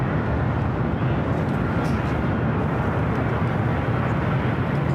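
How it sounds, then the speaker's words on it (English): A Starlux Airbus A350-900 arriving at LAX from Taipei makes a loud, steady jet roar that stays broad and constant throughout, with no voices. "It's the A350-900 coming in from Taipei."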